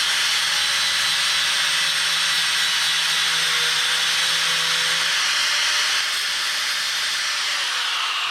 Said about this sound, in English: now we're gonna have to cut this rivet right here so we can get this completely out